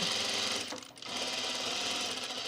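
A sewing machine stitching fabric for a Magnolia dress hums and clatters rapidly up close, dipping into a brief pause before resuming its steady whirring run.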